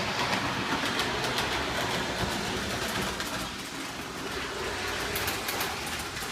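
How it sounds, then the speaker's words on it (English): A Lionel O scale command-and-control model train runs on O-27 track, giving a steady close rumble with faint clicking from the rails throughout. "here's a quick video of the command and control engine doing this run"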